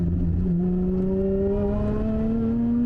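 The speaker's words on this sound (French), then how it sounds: "Le compresseur qui siffle." A high, rising supercharger whine climbs steadily over a tuned 460 hp Lotus Emira's engine drone as it accelerates, heard from inside the car.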